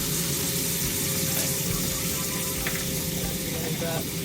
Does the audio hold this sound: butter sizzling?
yes